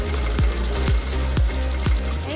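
Domestic sewing machine stitching fabric squares for a tablecloth, running in a steady close whir with a regular thump about every half second, with no voices.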